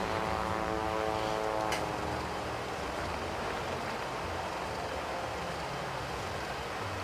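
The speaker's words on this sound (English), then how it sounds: "I've got aircraft coming in on me here" Attack aircraft propeller engine drone in the World of Warplanes video game, a steady, loud broadband roar that holds constant throughout with a brief tonal whine early on.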